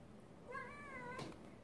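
A house cat gives a single drawn-out meow, faint and close by in a quiet indoor room on a snowy day.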